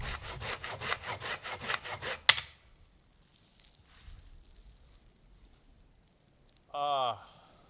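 Dull hand saw cutting dead standing trees for firewood in a winter forest: about ten quick rhythmic rasping strokes, then a sharp snap as the blade tip breaks, followed by quiet and a short scraping rub.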